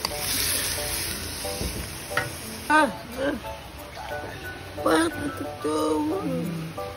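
Pork sizzles softly in its own rendered fat as it browns to golden for kinamatisang karne at a farm lunch. The faint, steady frying runs beneath people talking.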